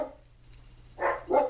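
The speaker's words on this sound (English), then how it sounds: "You hear all 3 of my dogs going crazy." Several household dogs barking excitedly at a delivery arrival, two short bursts of barks at moderate distance, fairly loud against a quiet indoor background.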